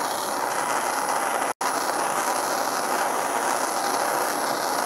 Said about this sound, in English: So now I'm going to heat this up to probably around 800 to 900 degrees.